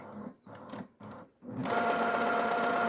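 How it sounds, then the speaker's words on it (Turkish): A Brother DCP-T300 inkjet printer whirs and clatters in short mechanical bursts, then settles into a steady, louder grinding hum as the print head is cleaned. "Şu an yazıcı içindeki kafasını temizliyor."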